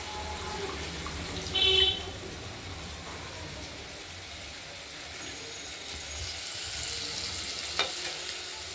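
Potatoes seasoned with salt and turmeric fry in a pan, giving a steady soft sizzle throughout with a brief clatter or stir near the start and no talking.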